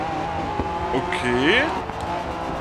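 Race car driving at night on a Côte d'Azur street circuit in GRID 2, a steady engine drone with a rising whine near the middle, under a brief spoken word.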